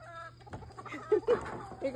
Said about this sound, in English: Look at the chicken running with the donut.